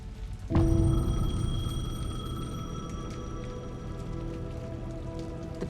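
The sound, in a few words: payphone ringing in the rain, from video game Alan Wake 2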